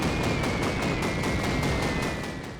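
Rapid machine gun fire from the classic World War II shooter game Call of Duty, a fast, evenly spaced burst of about a dozen sharp shots that stays loud and dense from start to finish, with no speech.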